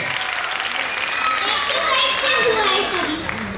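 Audience applause for dancer Kartik at a dance show, a steady wash of clapping with a light musical tone running under it throughout.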